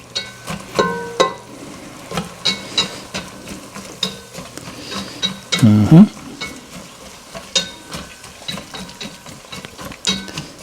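Half an onion and meat cook together in a pan, giving a low sizzle punctuated by repeated sharp knocks and scrapes of a utensil stirring, with one louder clatter midway.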